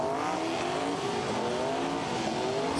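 A drag race car screams past at the top end of the racetrack at an event, its loud high-pitched engine note sustained and gliding slightly over a few seconds.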